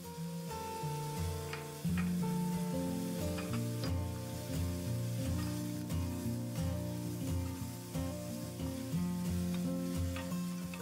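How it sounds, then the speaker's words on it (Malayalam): Onion, ginger and green chilies sautéing in a pan, a loud continuous sizzle with scraping stirs and a low hum from a nearby appliance running steadily underneath. "അടുത്തതായിട്ട് ഇഞ്ചിയും പച്ചമുളകും കൂടെ ഇതിലേക്ക് ചേർത്ത് കൊടുത്തിട്ട് ചെറുതായിട്ടൊന്ന് വഴറ്റിയെടുക്കാം."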